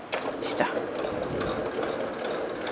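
A sewing machine stitching fabric at a longer stitch length, a fast steady mechanical whirring and clatter, with a voice talking over it.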